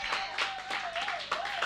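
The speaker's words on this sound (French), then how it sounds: "Acclamez très fort pour la gloire de Dieu." Applause and clapping rise from a church congregation, a dense crackling wash of hands that swells in short bursts while a sustained tone hums steadily underneath.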